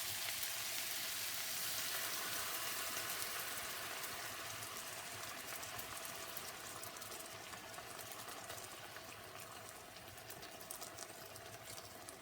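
Stock poured into a hot pan of meatballs sets off a steady, loud sizzling hiss that holds throughout and eases slightly toward the end.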